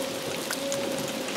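Steady rain patters continuously during the rainy season, a close, even hiss of drops with a faint tone running underneath.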